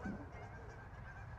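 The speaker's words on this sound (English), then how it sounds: "I'm sorry, I hope you can't hear the geese" Geese honk faintly in the background outside a home in Fossil Rim, Wichita, Kansas, one brief squawk at the very start over a quiet, low ambient hum.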